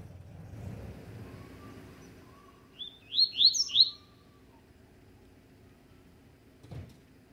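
Captive coleiro and papa-capim songbirds in a Brazilian bird outing, a short burst of four or five bright, rising chirped notes in the middle, fairly close, over quiet outdoor background with faint low rumble.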